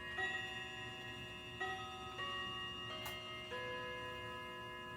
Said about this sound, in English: And Mr. Clock says it's 6 o'clock p.m. in the evening. He's chiming out the time.